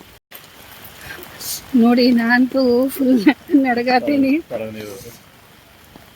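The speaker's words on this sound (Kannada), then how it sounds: "ಜೋರಿನ ಮಳೆ ಇದೆ." Heavy rain in Belagavi pours as a continuous broadband hiss under a person talking, the wash steady and moderately loud throughout.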